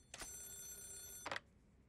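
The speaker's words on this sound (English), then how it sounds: "The phone is ringing." A telephone ringing in the Yakuza 0 game, one faint electronic ring lasting about a second, clean and alone with no talk.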